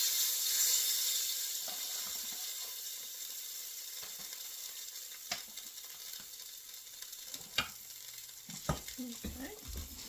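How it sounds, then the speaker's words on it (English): Hamburger steak mixture for smothered hamburger steak cooking in a hot pan, with a soft, steady sizzle and scattered scraping knocks of a utensil stirring, growing more frequent toward the end. "Mix that together."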